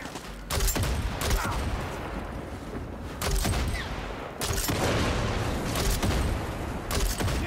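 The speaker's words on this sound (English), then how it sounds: "Ooh, that's a lot of grenades." Several heavy grenade blasts go off one after another in Far Cry 6, each a loud, close boom that settles into rumbling noise before the next one hits.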